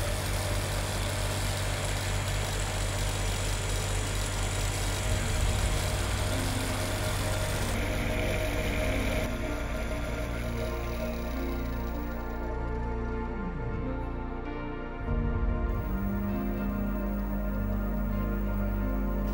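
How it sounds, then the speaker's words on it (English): An alternator converted into a magnet motor, driven from a 55-volt DC controller at up to 2,875 RPM, runs with a continuous loud electric whine and hum that shifts in pitch as it changes speed. "Now the motor rotates counterclockwise."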